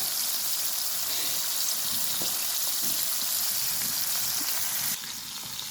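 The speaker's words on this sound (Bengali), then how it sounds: "আলু কুচির সাথে এই যে সাথে ডিম দেওয়া মাছের ডিম দেওয়া দেওয়া হবে যে মাছের ডিম বাজা হইতেছে" Fish roe frying with chopped potatoes in a pan, a steady dense sizzle throughout with faint stirring clicks, loud and close.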